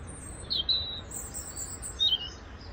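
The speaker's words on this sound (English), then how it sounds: "Greeted by the little robin most mornings." A robin sings in two short, high chirping bursts near a campsite across from a supermarket, heard faintly and alone over a quiet background hum.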